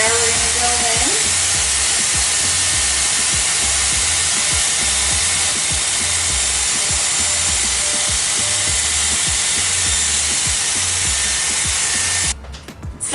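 A Dyson Airwrap hair styler blows a loud, steady rush of air while styling hair, continuing unbroken for about twelve seconds before cutting off abruptly near the end.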